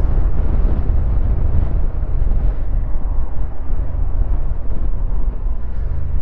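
Honda Transalp 750 motorcycle engine pulling steadily around 4,000 rpm while riding, a continuous loud low rumble blended with heavy wind buffeting across the whole stretch.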